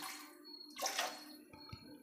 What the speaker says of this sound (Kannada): ಇನ್ನು ಸ್ವಲ್ಪ ನೀರು ಸೇರಿಸ್ಕೊಳ್ತೀನಿ.